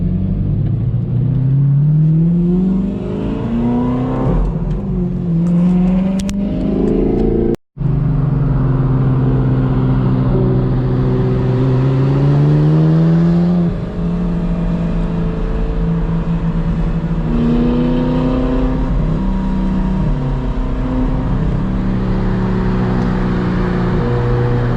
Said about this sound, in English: Little bro driving the Type R home